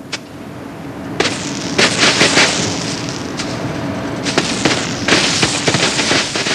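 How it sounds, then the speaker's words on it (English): Firecrackers and fireworks going off outdoors in a rapid, irregular string of loud sharp bangs and crackles, some bursts overlapping, over a steady background hiss. "when you light the cracker or firework, place it on soil or sand to keep it stable"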